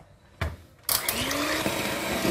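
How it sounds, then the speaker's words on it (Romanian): An electric hand mixer whirs steadily in cake batter for a berry cake, starting with a short burst and then running continuously and loudly after a brief pause, with a faint rising whine in the motor. "Toate acestea le batem bine cu mixerul."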